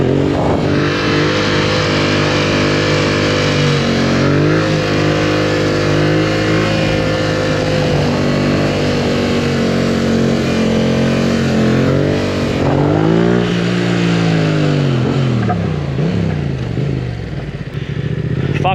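A motorcycle engine revs loudly and continuously while the rider pulls wheelies, its pitch rising and falling through repeated throttle swells, close and dominant throughout.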